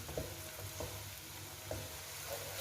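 Onions frying in hot oil in a pan for beef kofta curry, a steady close sizzle with occasional stirring scrapes, no talking.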